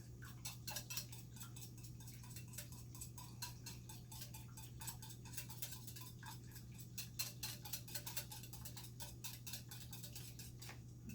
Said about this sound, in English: So just go ahead and whisk till the egg breaks.